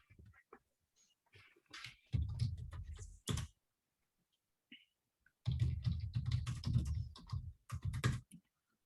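Bursts of typing on a computer keyboard, with clusters of quick clicks separated by short pauses, close and fairly loud in a quiet room.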